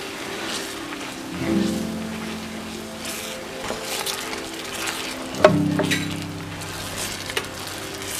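An ingredient melts in a hot pan with a steady close sizzle and crackle, a spoon scraping and stirring through it, with a couple of louder bursts of frying along the way.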